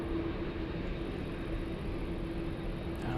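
A Lufthansa airliner at Frankfurt airport in the evening, a steady distant jet engine roar that stays level throughout and carries a faint whine.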